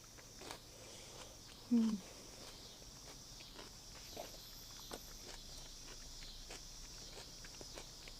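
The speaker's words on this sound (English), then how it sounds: "Can you guys hear the cicadas? They're so loud." Cicadas drone steadily outdoors near a beach, a constant high buzz running the whole time, with a soft thump or footstep partway through.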